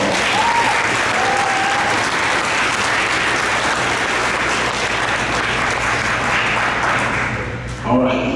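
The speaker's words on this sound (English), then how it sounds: "Let's give them a big round of applause." Spectators at a high school softball state tournament between Kellyville and Perkins give a long, loud burst of applause, dense clapping with crowd noise sustained for several seconds before tapering off, with voices and whistles near the end.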